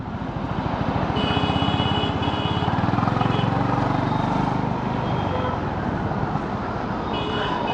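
Road traffic rumbles around a moving motorbike in a steady, loud engine drone, with thin high beeping tones cutting in and out over the roar.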